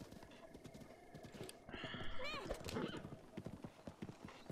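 A horse in a video game clip-clops repeatedly and lets out a rising whinny midway, with a voice talking over the hoofbeats.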